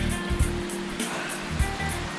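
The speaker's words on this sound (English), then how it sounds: "I'm on top of the waterfall." Rushing water roars steadily at the top of a waterfall, a loud broadband wash with a few low thumps and buffeting bursts mixed in, and no speech.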